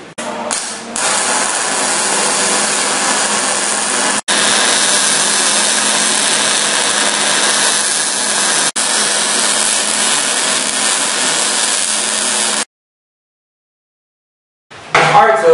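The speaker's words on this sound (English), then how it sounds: "So let's go ahead and do those welds." Loud, continuous crackling buzz of a Longevity MIGweld 140 MIG welder cranked all the way up, laying welds on thick metal for trailer ramps, with two brief breaks, then silence, then the arc restarting.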